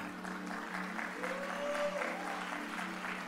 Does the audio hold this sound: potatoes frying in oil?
no